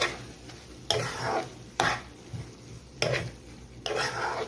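Spices being stirred into liver in a pan, five sharp scraping strokes of a utensil against the pan at uneven intervals over a faint background sizzle.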